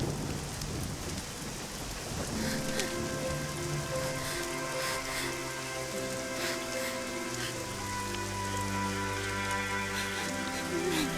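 Heavy rain falling in a television drama, with a dense, steady hiss and patter throughout and tonal background music layered beneath it.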